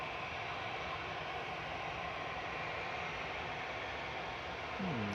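Airbus A320neo airliner at Manchester Airport, a steady broad engine roar with a hissing wash that holds level throughout, with no talk over it.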